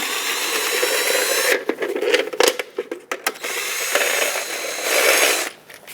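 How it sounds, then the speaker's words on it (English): A hand socket ratchet clicks rapidly while loosening lug nuts on a Ram 2500 wheel, close and loud, in bursts of fast pawl ticking separated by short pauses. "use your socket and remove all the lug nuts"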